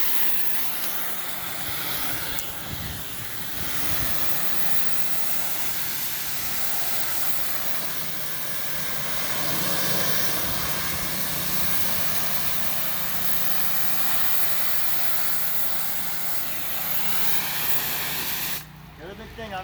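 A pressure washer running 5.5 gallons a minute at 3,500 psi with an oversized 25-15 tip blasts cedar shake siding, a loud, steady roaring hiss of spray that cuts off abruptly near the end.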